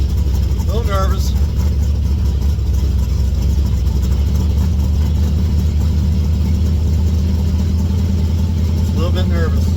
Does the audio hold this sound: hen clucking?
no